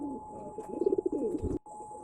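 Pigeons at a pigeon sale coo in a short, soft, rolling phrase of several pulsing notes, close by, over a faint steady hum and light background noise.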